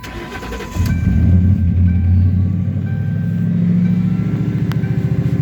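A Ford Panther-platform car fitted with P71 police-interceptor parts cranks briefly, then its engine catches and settles into a loud, steady, rumbling idle close by.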